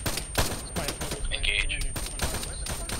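Rapid automatic gunfire in a military simulation video game, bursts crackling close and loud while voices shout over the shooting.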